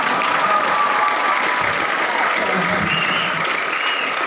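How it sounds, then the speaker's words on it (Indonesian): Audience applause at an Indonesian army battalion commander's address, a loud, sustained burst of many hands clapping evenly for several seconds, close and dense with a faint high tone in the background. "Tepuk tangan dulu."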